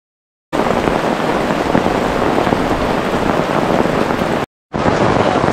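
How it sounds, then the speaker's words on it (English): Heavy rain pouring steadily at Beaver's Bend State Park near Broken Bow, Oklahoma, a loud, dense hiss that cuts out briefly before resuming. "it's raining a lot"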